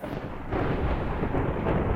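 Thunder rolls in the video game Minecraft, a deep continuous rumble that swells and grows louder partway through, with no speech.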